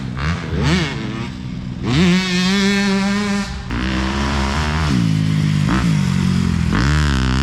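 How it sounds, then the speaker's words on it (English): A Yamaha YZ125 two-stroke dirt bike comes around a corner on a motocross track, screaming loudly and close as it revs up and down through several throttle blips and gear changes. "I hear that YZ 125, baby, coming around."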